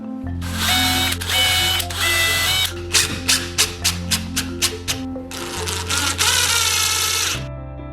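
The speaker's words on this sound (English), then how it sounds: "get a small drill bit and just mark out where the screws are going" A small power drill with a small bit whirs loudly drilling screw holes while fitting an internal door, in long bursts, then a series of short rapid trigger pulses, then another sustained run before stopping.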